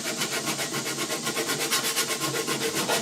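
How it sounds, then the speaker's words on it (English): A hand file is rubbed back and forth along the glovebox door of a 1966 Ford F100, a steady series of close, rhythmic rasping strokes with no talk. "So just pay attention to how much you're filing and don't overdo it."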